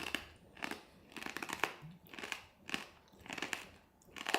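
A person eating crunchy snacks with beer chews loudly and close up. Bursts of crisp crunching come in a steady rhythm of bites, with no talking over them.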